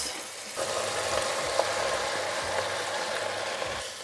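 Leeks sautéing in oil in a pan, a steady close sizzle with watery crackle running throughout, broken by a few small clicks and stirring knocks.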